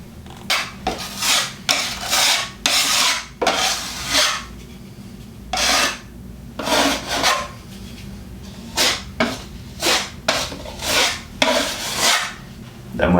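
A filler knife skims over pre-filled holes inside a cupboard, making repeated rasping, scraping strokes in a steady back-and-forth rhythm, close and fairly loud with short pauses between passes.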